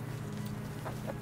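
A chicken in the survival game Rust gives a couple of short clucks over a steady low in-game hum, the clucks brief and close near the end.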